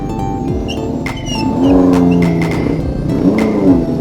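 A big motorbike engine revs loudly close by, rising and falling in pitch as it accelerates through traffic, with steady engine roar and a few chirping background sounds.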